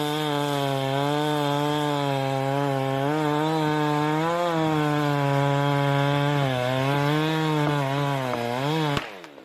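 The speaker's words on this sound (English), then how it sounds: "In the woods, a worker operates a chainsaw, cutting deep into a large tree trunk." A chainsaw cuts deep into a large tree trunk in the woods, its loud buzzing engine holding a steady pitch with slight dips under load for about nine seconds before stopping abruptly.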